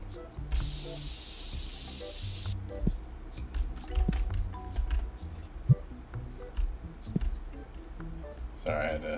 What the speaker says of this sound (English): Sorry, I had to spray her down first.